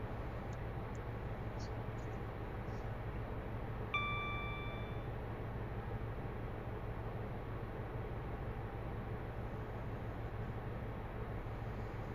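A single electronic warning ping from a modern train's ATP safety system in a railway simulator game, a brief clear tone sounding once near the four-second mark over a steady low rumble of the train.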